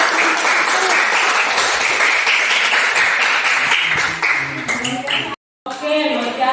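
A classroom of students gives applause for discussion group 1, with dense, sustained clapping from many hands that continues steadily before a brief cut and a short resumption.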